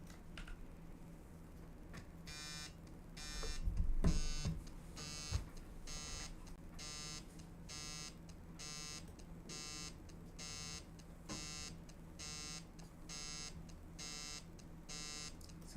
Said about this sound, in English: Somebody's calling my phone.